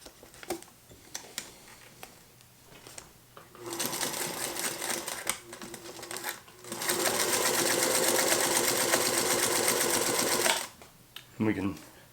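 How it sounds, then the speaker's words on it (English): A Featherweight sewing machine stitches a double-folded hem in Tyvek, its motor whirring in short runs before one long, steady, loud burst, then stopping; a voice talks over the early part. "Another great use of this machine would be if you like to sew Tyvek"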